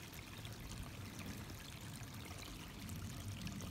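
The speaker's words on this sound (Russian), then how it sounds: "Вот такие ручьи бегут здесь." A cold, spring-fed forest stream in the Black Forest runs with a faint, steady rushing and trickling wash, unbroken and without voices.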